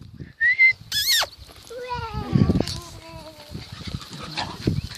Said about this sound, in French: Et l'aboiement.